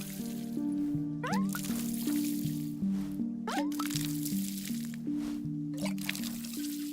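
A plant being watered in the game Wanderstop: soft squishy dripping and pouring water sounds in short bursts over a steady melodic music bed, fairly quiet and close.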